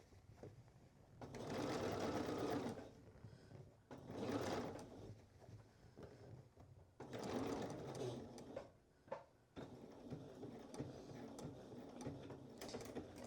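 A domestic sewing machine runs in several bursts of steady stitching, understitching a Cashmerette Wayland dress, with short pauses and small mechanical clicks between runs; no voices.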